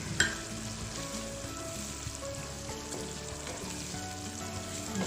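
Tomatoes go into a pan of fish cooking in yellow spice paste, and a steady close sizzle and fry carries on with a brief clatter at the start.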